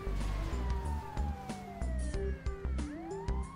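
Wailing ambulance siren in the video game GTA V, rising and falling sweeps over engine hum, with several sharp knocks and clatters scattered through.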